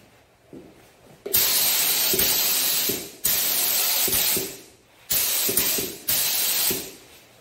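A spray gun lays clear coat over painted lettering on the tailgate of a 1956 NAPCO GMC Model 100 truck, four loud, close bursts of hissing spray, each a second or so long, separated by brief quiet clicks of the trigger.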